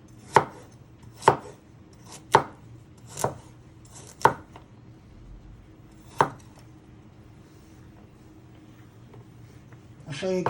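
A knife chopping food on a board for pea and ham soup, five crisp close chops in quick succession, then one more after a pause, with a rustle of handling at the end.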